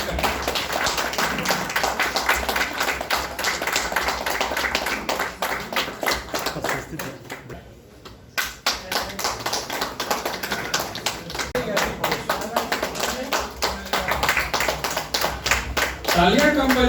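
Audience clapping at a local ceremony in Giridih, a long dense stretch of hand claps that briefly thins and drops out midway, then resumes strongly, with some talk mixed in.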